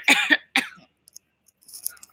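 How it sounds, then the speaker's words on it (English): One person coughs twice sharply and close up in quick succession, followed by faint small noises and near silence. "I don't want to cough you guys out"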